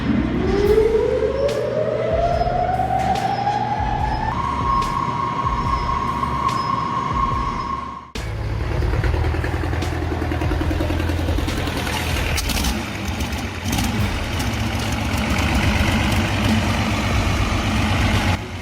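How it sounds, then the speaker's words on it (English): A 1915 electric motor, freshly rewound, spins up with a rising whine that climbs and then holds a steady pitch before cutting off, after which loud mechanical running noise and rumble take over. "motor from 1915 roars back to life after rewinding"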